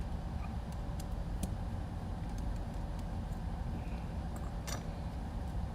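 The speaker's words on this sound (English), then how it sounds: "that's a loud truck" A loud truck engine rumbles steadily close by, a heavy low drone that holds for the whole stretch with a few faint higher clicks over it.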